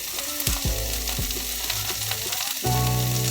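Ghugni made with moong dal lightly frying in a pan in a home kitchen, a continuous close sizzle with a few clinks and scrapes of stirring, then the frying grows louder near the end.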